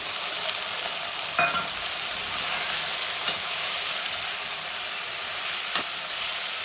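Potato, green beans, carrot and frozen peas fry in a pressure cooker for pulao, giving a steady, close sizzle with a few light stirring clicks and no talking.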